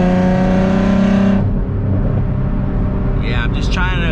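A car engine with a new clutch and flywheel roars loudly, its strong low tone holding steady and then dropping into a rough rumble, with a voice speaking briefly near the end.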